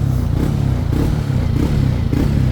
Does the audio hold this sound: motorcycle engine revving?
yes